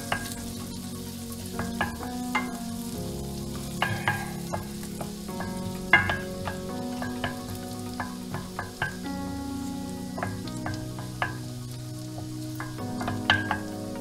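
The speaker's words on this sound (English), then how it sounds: "So you fry the garlic in the butter for about 30 seconds." Garlic frying in butter in a pan over medium heat, a continuous close sizzle with frequent sharp pops and spatters scattered throughout, and no voices.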